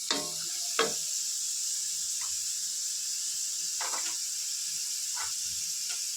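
Tomatoes and green chilies fry in a pan for a Sunday special dish, giving a steady bright sizzle throughout, broken by a few short stirring scrapes and spatters.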